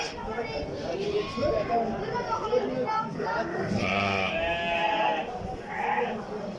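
Six-month-old lambs bleat repeatedly in shaky, wavering cries at a livestock market in Surxondaryo, several animals overlapping close by, with people talking throughout.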